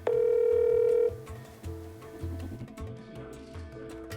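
A telephone call tone rings out steadily for about a second as a call to a retired judge fails to connect, then gives way to fainter broken tones over a background of music.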